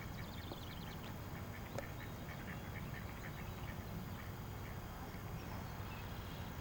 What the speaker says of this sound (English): Several members of the marsh duck family have returned from the south too.